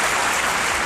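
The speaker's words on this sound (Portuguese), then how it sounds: "bate palmas para ação policial" A short, dense burst of steady applause, loud and even throughout.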